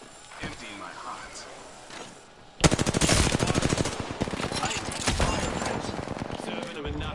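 Automatic gunfire in Apex Legends, quiet distant shots at first, then a loud close burst of rapid rattling fire that continues in dense volleys, with voices talking underneath.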